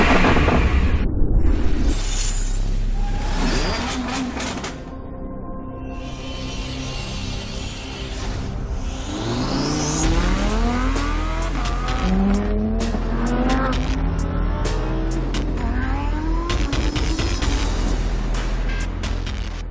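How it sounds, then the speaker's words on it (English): An Audi R8 V10 Plus sports car accelerates and revs hard on an empty road, its engine note climbing and falling through repeated gear changes, with short tyre squeals. The car stays loud and close throughout. "So this is a new Audi R8 V10 Plus, Audi's latest launch in the country, and today we're going to have a drive in this one."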